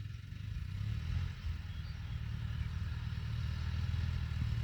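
A tractor engine labours at a steady low rumble while tilling a muddy rice field, close and continuous, straining without obvious stalling.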